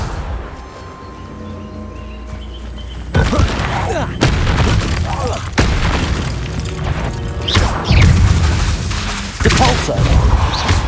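Magical explosive blasts from the Confringo spell in Hogwarts Legacy land in a chaotic game fight, several booming crashes and impacts stacking up over roughly eight seconds after a quieter opening, with shouting voices mixed in.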